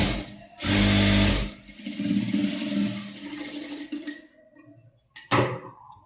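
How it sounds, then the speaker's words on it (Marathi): A sewing machine stitches a blouse in a tailoring class, running in a loud burst near the start, then a steadier quieter whirring run, stopping and restarting briefly near the end. "आता इथे आपण काय करणार आहोत, शिलाई मारून घेऊया"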